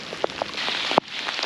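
Steady rain from Storm Arwen patters on a surface with scattered louder droplet hits, one sharp drip standing out near the end; no voices.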